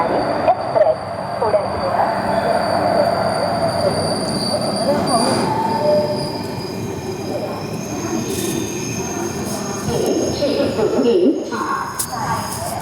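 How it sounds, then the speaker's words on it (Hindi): Shirdi Mysuru Express pulling into Belapur station, a steady rumble of rolling railcars with high, thin wheel squeal running over it and brief voices in the background. "सात मिनट की देरी से हमारी ट्रेन पहुंची है फर्स्ट हॉल्ट बेलापुर"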